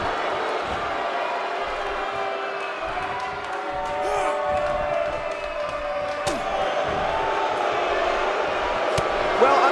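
Large arena crowd at a WWE wrestling event in Orlando roars and cheers steadily throughout, a dense sustained wall of voices with scattered shouts that swells slightly toward the end.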